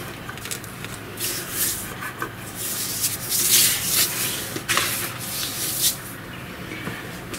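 A cloth rag rubs and smooths a freshly PVA-glued piece of paper wallpaper against a wall, giving close, soft swishing and brushing strokes that rise and fall in uneven sweeps.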